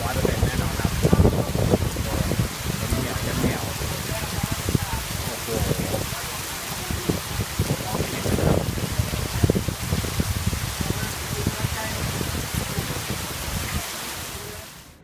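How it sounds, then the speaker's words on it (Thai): Steady, dense rain pours down across the whole stretch, a broad continuous hiss with heavier patters, fairly loud and close, with a few faint voices mixed in. "ฝนตกเต็มที่เต็มเหนียว"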